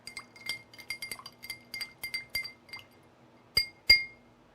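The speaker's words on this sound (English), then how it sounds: "stir it in with the ice until the ice completely melts" Ice cubes clink repeatedly against a mixing glass as a tequila old fashioned is stirred, a quick run of bright chinks ending in two louder clinks, close and clear.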